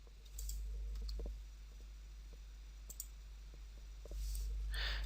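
A computer mouse gives a few soft, isolated clicks, close by and faint, against a low steady hum with short quiet gaps between presses.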